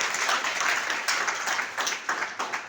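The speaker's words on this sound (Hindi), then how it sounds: "तो इनके लिए एक बार जोरदार तालियां चाहता हूं" A seminar audience gives a burst of applause, dense clapping from many hands that fills the room and swells and dips without talk.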